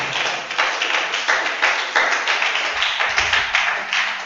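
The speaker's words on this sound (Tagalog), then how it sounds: "pumalakpak muna kayo sa Panginoon. Palakpakan muna natin siya." A church congregation claps in unison for the Lord, steady rhythmic beats at roughly two per second, loud and close, with no talk over them.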